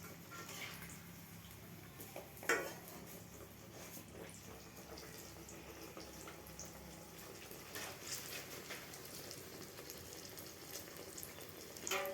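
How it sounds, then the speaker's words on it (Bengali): Thick pieces of ripe jackfruit fry steadily in a pan, giving a continuous watery hiss and sizzle with a few brief sharper pops, moderately loud and close, with no talking. "মোটা জিনিস তো একটু সময় দিয়ে ভাজতে হবে"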